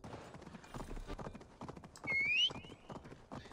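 Horse hooves clip-clopping in a steady galloping rhythm in Assassin's Creed Valhalla, with a short whinny in the middle, close and fairly quiet.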